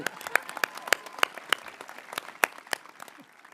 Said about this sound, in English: Can we give a round of applause for Patrick King?